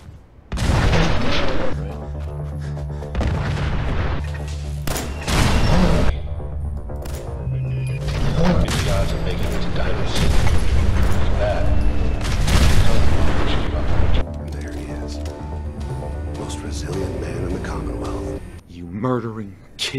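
Repeated mini nuke blasts during test fire in Fallout 4, heavy booming explosions with rumbling roars, loud and continuous across the clip, overlaid with game dialogue and sound effects.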